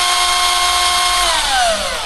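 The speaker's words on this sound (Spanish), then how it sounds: "Ponemos nuestro taladro en marcha" A 14.4-volt cordless power drill running from a mains power conversion at about 15.6 volts whines steadily at close range, its motor pitch dipping slightly near the end, with no voices.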